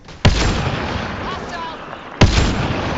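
Gunfire in the video game Mass Effect Andromeda, two heavy booming shots about two seconds apart over a steady noisy rumble of combat ambience.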